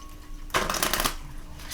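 A deck of oracle cards is shuffled by hand in a quick riffling burst of papery flutter lasting about half a second, close and clear against a quiet room.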